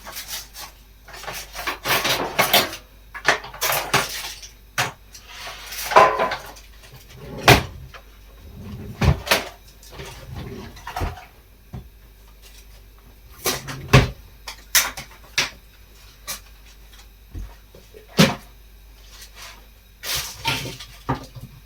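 A kitchen drawer crammed with dishes and cutlery is repeatedly pulled open and pushed shut, giving scattered sharp knocks, rattles and scraping rubs with quiet gaps between them, close by.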